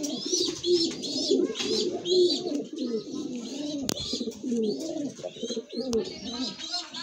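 A pair of domestic pigeons, the hen from a BRPL line, coo repeatedly at close range in low, throaty rolling phrases, with faint higher chirps from other birds scattered through.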